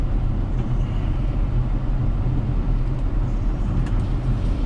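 Steady, loud low rumble of a tow truck driving along while out towing vehicles from a private property, constant road and engine noise with no breaks.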